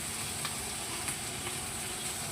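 Aubergine and potato pieces fry in a pan with a soft, even sizzle close by and a few faint stirring ticks, with no voices.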